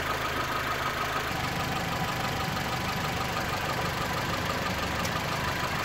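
A Mitsubishi Colt's warm engine idles steadily and loudly up close, a continuous rumbling hum with a faint knocking texture and no voices.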